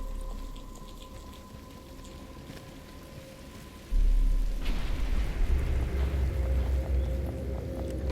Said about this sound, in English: But it's starting to rain.